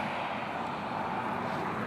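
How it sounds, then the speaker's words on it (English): An airplane flies overhead above a street in Kenner, giving a steady, broad, even roar that holds at one level throughout, with no talking. "an airplane, y'all."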